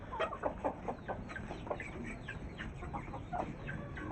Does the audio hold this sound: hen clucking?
yes